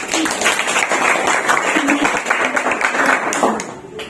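A classroom group receives dense applause from fellow participants at an Indonesian teacher training session. The clapping is steady and close for a few seconds before it thins out.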